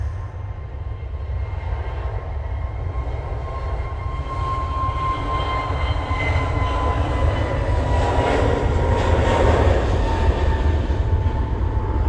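A Jet2 Airbus A321neo starts its takeoff roll at Manchester Airport on a windy day: a broad, steady engine roar heard from a distance that slowly builds over the twelve seconds, with no talking.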